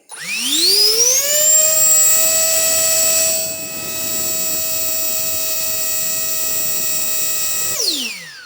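A powerful ONEVAN cordless leaf blower spins up with a rising whine, then roars steadily at full speed for several seconds before winding down, loud and close with no talk.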